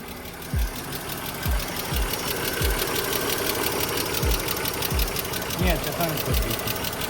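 An idling BMW X5 engine knocks with a steady, regular tapping rhythm, close by, while people talk faintly over it.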